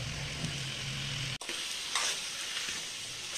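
Chili powder sautés in a hot pan for a Tamil chola poori potato and pea dish, giving a continuous sizzling hiss. A brief stirring clatter interrupts it partway, then the frying resumes alone.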